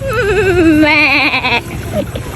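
A person mimics a goat's bleat with a loud, wavering, nasal cry lasting over a second, followed by brief murmurs.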